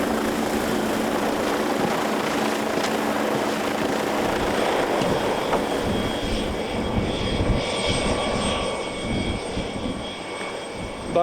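A helicopter, used to fly engineers and electricians out to lighthouses, flies with a steady loud engine drone that fades slightly toward the end.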